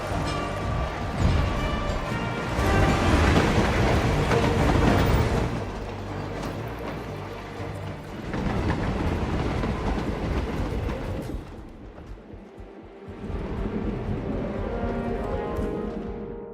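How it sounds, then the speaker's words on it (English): A train runs along rails with a steady, loud rumble and rhythmic clatter that swells, dips around the middle, then returns, with no voices over it. "Ether Corporation bought this train"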